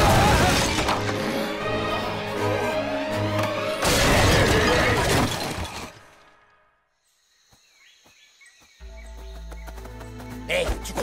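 Clay pots smash in an animated jungle adventure series with loud crashing shatters and tumbling debris, mixed with voices and music before a brief quiet stretch.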